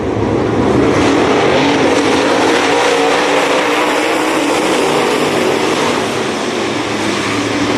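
Race car engines roar loud and unbroken through a dirt track heat race, a dense, steady rumble with no pauses and no voices.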